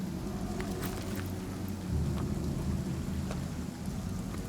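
Steady rain pours in a Divinity: Original Sin game scene, with low rumbling thunder rolling underneath and scattered drop ticks, moderately quiet and continuous with no talk.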